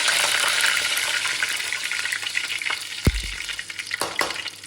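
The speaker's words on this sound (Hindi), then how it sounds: "इसमें डालेंगे ज़ीरा थोड़ा सा, राई थोड़ी सी, इसमें डालेंगे कड़ी पत्ता" Cumin, mustard seeds and curry leaves sizzle in hot oil for upma, a steady close crackle with a spoon stirring and a couple of sharp knocks partway through.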